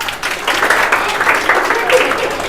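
Classroom children clap together in a dense, steady patter of hand claps that keeps going at a loud, close level, with a voice or two talking over it.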